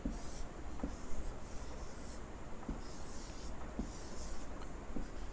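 A pen draws a Venn diagram for A minus B in a Class 10 sets lesson, giving faint scratchy strokes and light taps over a steady background hiss. No one speaks.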